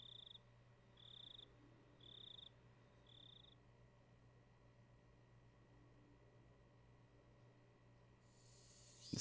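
Cicadas in a hot summer room in Higurashi: When They Cry send out four short, even chirring pulses at a steady pace over a low hum, faint and distant, then quiet.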